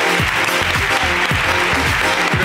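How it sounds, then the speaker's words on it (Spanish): Enthusiastic applause from a comedy show audience in Málaga, thick continuous clapping with scattered cheers and whoops, loud and close throughout. "¡Aplauso para la ruina de Adrián!"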